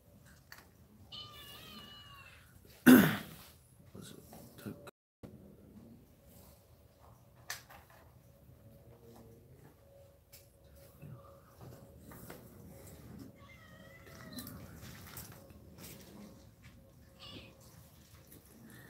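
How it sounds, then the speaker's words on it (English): A needy cat meows indoors, with a few faint, wavering meows early on and again later, a loud thump near the start, and quiet background sounds in between. "Cat's needy."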